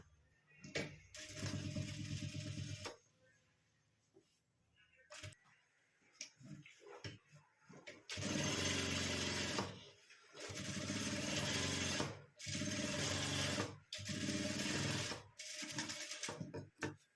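A sewing machine stitches a hand purse made from blouse fabric in short bursts at first, then in longer loud runs separated by brief pauses, close up.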